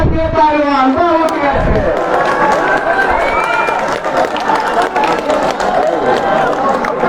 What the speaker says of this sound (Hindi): तालियों का शोर सुनकर आप अंदाज़ा लगा सकते हैं कि कितना लोग एंजॉय कर रहे हैं इस खेल को और इस आयोजन को